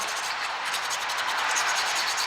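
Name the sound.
scraping old sealant off a car sump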